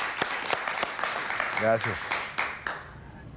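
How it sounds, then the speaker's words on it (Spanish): Studio audience applause on a Spanish-language television interview show, a short burst of scattered claps that swells briefly and fades, with a host's voice speaking over it. "Un aplauso para él."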